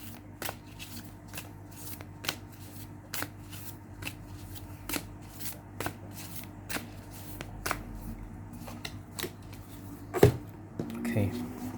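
Tarot cards are shuffled by hand in a quiet room, a steady series of soft riffling flicks at a regular pace, close and fairly faint, with one louder bump near the end.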